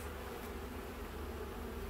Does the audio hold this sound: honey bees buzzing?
yes